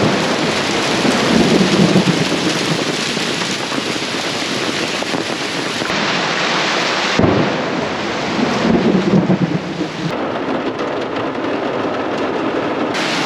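Heavy rain pours down in a dense, roaring wash at a campsite in Shenandoah National Park, with deep rumbles of thunder rolling through the steady downpour.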